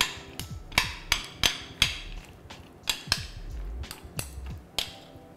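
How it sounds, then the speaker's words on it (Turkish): A spoon clinks against a bowl while stirring a healthy mosaic cake mixture, giving about a dozen sharp, irregular knocks close by with short gaps between them and no voices. "İyice karıştırıyorum."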